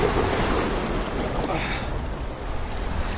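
Sea surf breaks and splashes against slippery coastal rocks below the castle at Kusadasi, Turkey, a continuous broadband wash with a brief spray burst midway, close and steady under wind noise.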